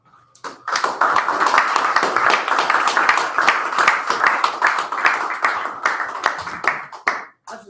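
An audience at a live stage show claps for a performer, a full round of close, crisp hand claps that starts abruptly, holds steady for several seconds and then tapers off at the end.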